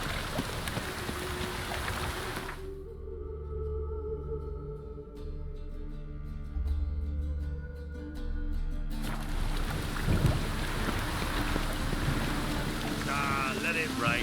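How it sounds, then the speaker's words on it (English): Rain in the Witcher 3 video game: a dense, loud, steady hiss that drops out for several seconds while quieter voices and game sounds come through, then returns at full strength. "Witches have conjured rain."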